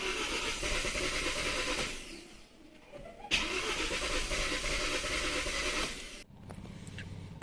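A Hyundai i20 car engine fails to start, with repeated bursts of strained starter cranking separated by short pauses, close and loud.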